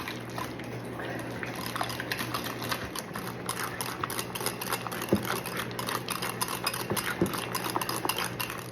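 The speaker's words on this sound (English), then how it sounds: "whisk it up." A whisk beats caramelized onion dip ingredients in a bowl, a fast steady clicking and scraping of metal against the bowl that runs close and fairly quiet throughout.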